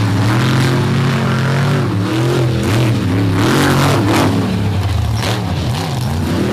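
A monster truck launches off the line in a racing show at Bloomsburg, its engine roaring loud and close with rising and falling revs, amid crowd noise and an excited announcer talking.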